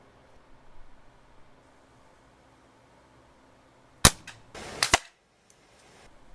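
A vintage Crosman 760 pump air gun fires a pellet in a backyard, heard as a sharp close crack followed by a second smacking crack, after a quiet stretch of faint ambient noise.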